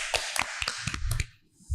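A handful of light, separate claps fall in an uneven rhythm during a casual podcast chat recorded in Lubuk Linggau. They are close to the microphone but quiet, with low murmurs in between.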